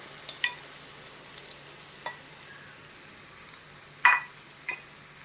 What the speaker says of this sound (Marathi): हे मिश्रण आपण चिक्कू आणि गुळाचं मिक्स करणार आहोत, यामध्ये पॅनमध्ये घालणार आहोत.